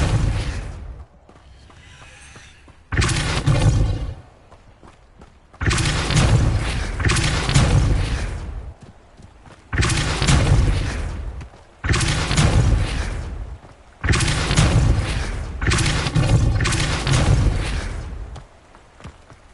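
The Depulso spell is cast repeatedly in Hogwarts Legacy, with about seven loud, booming blasts at irregular intervals, each followed by a short decaying rumble and quieter gaps between.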